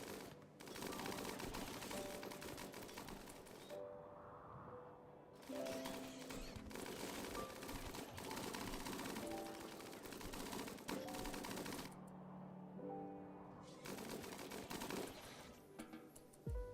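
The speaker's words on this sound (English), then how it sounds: "The minigun hits pretty much everything." A minigun in Rimworld fires long sustained roaring bursts, loud and dense, broken by a few short pauses before it spins back up again.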